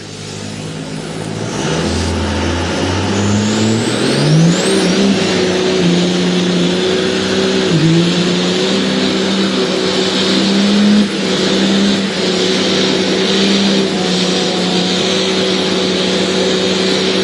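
A Cummins diesel drag truck with a South Bend clutch accelerating hard at a Billings, Montana truck fest, a loud, sustained engine roar that climbs through shifts and keeps pulling steadily with no talk.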